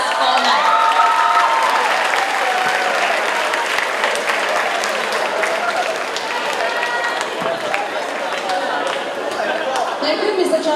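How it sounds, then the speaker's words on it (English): An audience at a school graduation ceremony applauds award recipients, with sustained dense clapping mixed with crowd chatter and voices running through it for the whole stretch. "Let's give a warm round of applause to all the recipients."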